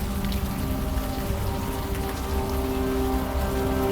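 Steady rain pours in the video game Unavowed, an even, close hiss of drops on surfaces with no breaks, alone without voices.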